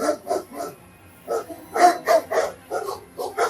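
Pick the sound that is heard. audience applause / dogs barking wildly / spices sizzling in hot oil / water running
dogs barking wildly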